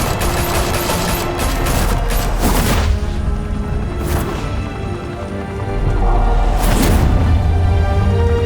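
Sustained automatic gunfire crackles in a rapid, dense volley during an action scene in Batman: The Telltale Series, loud and continuous throughout with a few sharper bursts and booms.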